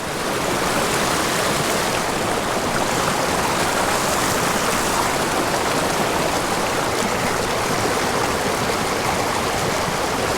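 Steep mountain stream tumbling over small waterfalls, a constant close hiss and roar of rushing water, loud and even from start to finish with no voices.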